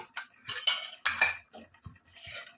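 A pan being set and handled on a stovetop before dry fruits are fried for a bottle gourd halwa, giving several close, sharp metallic clinks and scrapes in short bursts, with no talking.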